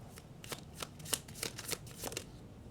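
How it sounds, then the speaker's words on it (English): Tarot cards are shuffled by hand in a quiet room, with a quick series of soft riffling snaps and papery flutters repeating in an uneven rhythm, close and gentle. "I want to pull one card in the center."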